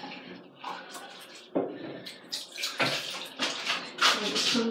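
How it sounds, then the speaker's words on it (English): Running tap water splashes over hands being washed at a sink, a close, uneven trickle and splatter that grows busier and louder toward the end, with no talking. "The next thing I do is I wash my hands."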